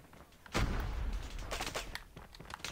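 Rapid bursts of gunfire from the shooter game COD Mobile, a loud booming volley at about half a second followed by continued crackling shots and impacts, with no talk over them.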